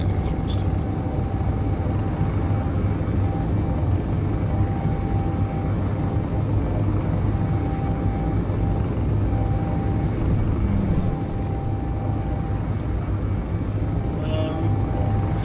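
Spaceship thrusters in Space Engineers roar in a steady low rumble during a heavily loaded liftoff on a planet, continuous and even throughout with faint background tones.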